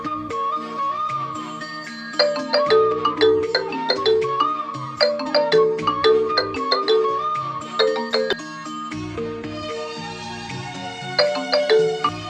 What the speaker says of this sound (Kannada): ಕೃಷ್ಣ ಫೋನ್ ಹಚ್ಚನ